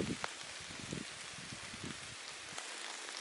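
Steady rain falls in a Roztocze forest near a WWII bunker, a soft, dense patter of drops on leaves and ground with a few nearer, sharper drips, quiet and continuous.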